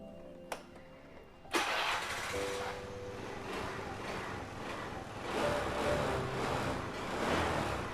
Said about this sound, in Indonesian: Oke, mesin masih halus ya, suara juga masih ciri khas